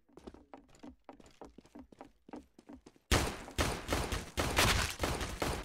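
Video game gunfire: after several seconds of sparse, separated shots, a dense loud burst of rapid fire erupts and continues to the end, close and harsh.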